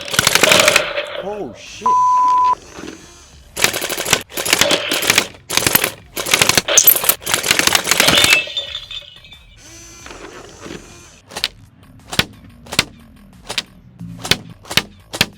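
Gel Zone Pro Kratos gel blaster firing on full auto: dense bursts of rapid mechanical shots, loud and close, giving way to spaced single cracks, with a brief exclamation from a man.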